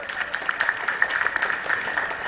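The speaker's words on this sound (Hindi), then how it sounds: "जोरदार तालियां बजाएं" Audience clapping loudly and briskly after being urged on at a speech event about Swami Vivekananda, a dense burst of many hands lasting a couple of seconds with no talking.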